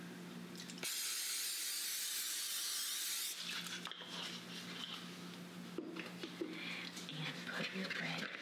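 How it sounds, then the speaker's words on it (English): A steady hiss of vegetable oil aerosol spray onto a cookie sheet lasting a few seconds, followed by kitchen clatter and a person talking. "Now you need to spray a cookie sheet with some vegetable oil."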